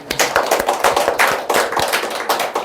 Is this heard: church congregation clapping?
yes